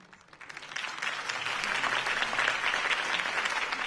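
Applause from a crowd after a campaign speech in the Telltale Batman video game, swelling quickly into steady, dense clapping that holds through to the end.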